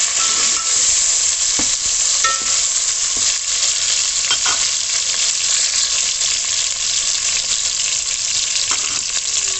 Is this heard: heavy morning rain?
no